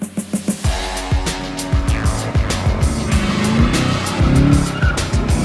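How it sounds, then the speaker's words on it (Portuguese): Chevrolet Camaro V8 sliding on a race track during a fast lap, with tyres squealing continuously and the engine roaring close and loud after a few sharp revs at the start. "O carro, ele vai patinando o tempo inteiro."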